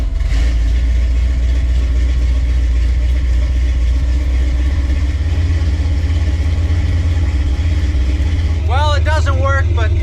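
A 1968 Chevy C20 pickup engine runs loud and close at a steady idle throughout, with a brief higher whine or squeal near the end; no talk is heard.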